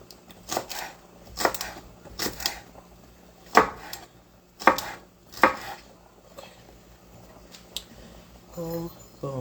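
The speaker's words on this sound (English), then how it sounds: "Do not be judging my chopping skills." A knife chops salad vegetables on a cutting board in a run of sharp, uneven thumps, close and clear, with a brief pause partway and faint background sounds.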